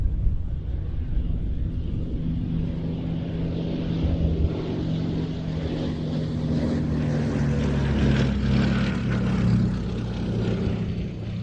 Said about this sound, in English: Lovely sounds of Bristol Mercury radial.